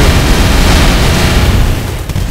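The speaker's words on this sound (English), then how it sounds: "Oh, fireworks!" Fireworks boom in the Stick Fight video game, a loud, dense wall of explosive rumble and crackle that fills the space continuously before easing slightly near the end.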